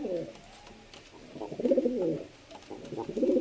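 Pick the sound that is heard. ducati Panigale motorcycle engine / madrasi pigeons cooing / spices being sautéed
madrasi pigeons cooing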